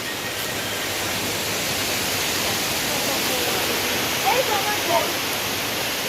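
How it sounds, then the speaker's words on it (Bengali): Kanchenjunga Falls in Sikkim roars as a dense, steady wash of falling water that fills the whole scene, loud and unbroken, with faint voices beneath it. "এই ঝর্ণার আওয়াজটাই দারুণ লাগে"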